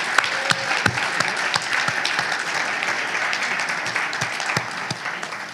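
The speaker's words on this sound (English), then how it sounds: "Can we have another round of applause for all of our speakers?" An audience at a church conference claps in sustained applause with sharp individual claps throughout. It is fairly close and steady before fading slightly.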